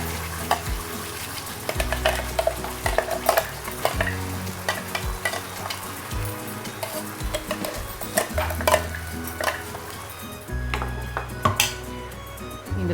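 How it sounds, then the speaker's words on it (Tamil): A ground paste of onion, tomato, ginger and garlic sautéing for kadai paneer, with steady frying sizzle under repeated close scraping and clinking of a spoon stirring against the pan, and no talk. "திக்காகிற வரைக்கும் அப்படியே விடுங்க, வதக்கி விடுங்க."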